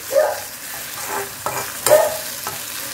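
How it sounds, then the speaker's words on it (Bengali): Ginger garlic paste fries over medium heat, a soft sizzle under a few sharp scrapes and clinks of stirring, with no talk. "দিয়ে এটাকে একটু কাঁচা গন্ধটা যতক্ষণ না চলে যাচ্ছে না একটু ভাজতে হবে"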